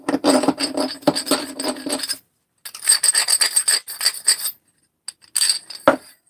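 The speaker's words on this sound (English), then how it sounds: "Just taking the burrs off." A flat file rasps burrs off a metal edge in several quick bursts of short back-and-forth strokes, close and bright, separated by brief pauses, with a light metallic tap near the end.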